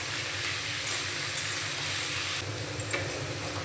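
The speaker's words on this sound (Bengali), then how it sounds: "আলুটাকে আমি ভালো করে ভেজে নেব।" Potatoes frying in hot oil with salt and turmeric, a steady, close sizzle that hisses on without pause and with no voices over it.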